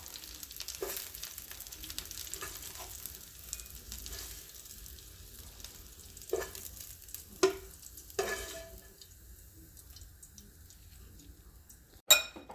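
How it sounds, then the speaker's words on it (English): Beef liver and onions are stirred in a pan, with a faint, quiet sizzle under scattered scraping knocks of a utensil and one sharp clink near the end. "I'll just mix it all together."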